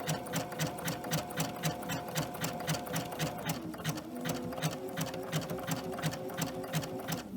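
A sewing machine with a twin needle stitches a wide zigzag at width 5.5 and short stitch length, a steady, close, rapid rhythmic clatter that runs without pause.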